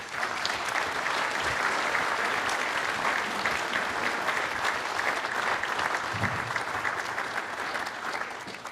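Steady audience applause fills a conference hall as speakers are welcomed at a corporate directors' event, sustained and even throughout with faint crowd murmur underneath.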